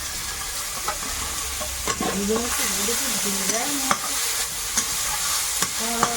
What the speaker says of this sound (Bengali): এটা একটু নেড়ে চেড়ে নিয়ে কুচো চিংড়িটা দেবো